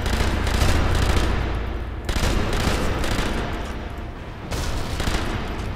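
Rapid gunfire from the video game Sniper Elite V2, set in a church level, runs as dense, loud bursts of shots with brief lulls around two and four and a half seconds, no talking over it.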